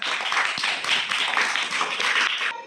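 A classroom of children clap together in a dense, rapid burst of many overlapping hands. The clapping stays loud and close for over two seconds before stopping abruptly.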